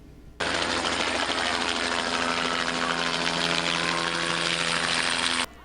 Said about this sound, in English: St. Nick landed in style at a helicopter